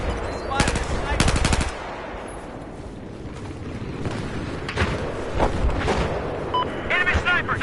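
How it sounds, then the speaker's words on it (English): Gunfire in the Battlefield 4 video game during hardcore multiplayer: bursts of rapid automatic fire and scattered single shots, some near and loud, others distant, over a steady rumbling battle backdrop. "somebody shooting at me from somewhere high"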